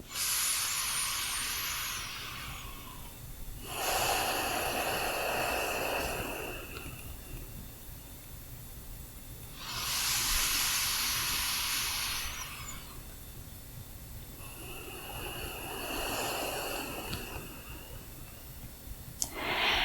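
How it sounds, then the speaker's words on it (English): Slow, deep breaths drawn in and let out through the nose during a beginner yoga stretch session, heard close and alone as four long airy swells with quiet pauses between them. "perhaps you can even begin inhaling and exhaling through the nose, taking some deeper inhales and exhales here"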